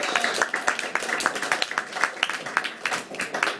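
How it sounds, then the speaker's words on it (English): Applause from an audience at a small live performance evening, many hands clapping in a steady patter with louder individual claps standing out, nearby and continuous. "Let's have a nice round of applause for this stage"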